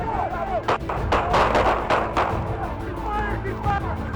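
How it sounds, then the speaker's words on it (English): Several sharp gunshots ring out in quick bursts during a police stop captured on a dashcam. Shouting voices are mixed in, and the shots sound harsh and close. "Shots fired! Shots fired!"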